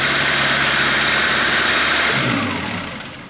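A car engine rebuilt by students runs steadily at idle, loud and close with a broad, even rumble, then eases off slightly toward the end; no talking over it.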